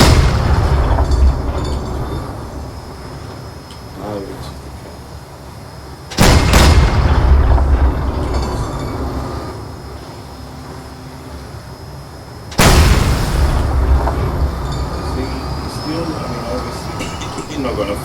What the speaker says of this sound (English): most powerful cannons on here.